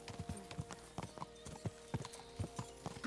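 Galloping horse hooves in Kingdom Come Deliverance 2 strike in a steady rapid clip-clop across the whole stretch, moderately loud and close with no talk over them.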